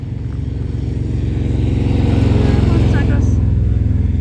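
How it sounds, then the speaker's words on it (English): Motorcycles pass on a road in rural East Tennessee, a loud buzzing engine drone that builds and holds steady close by, with faint voices in the background. "Motorcycles."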